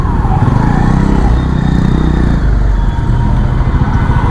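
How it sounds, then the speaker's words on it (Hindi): An ambulance siren wails faintly through dense city traffic, mostly covered by a close, loud, steady engine drone from the rider's vehicle. "एम्बुलेंस आ रही है"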